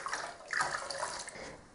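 Water splashes and trickles briefly while a guinea pig is rinsed during a bath, a soft close pouring sound like a tap running into a tub, fairly quiet with no voices.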